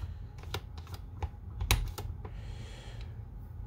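A Kral air rifle's single-shot loader clicks into the receiver: a string of small, sharp, close clicks and taps, quiet overall, with no voices.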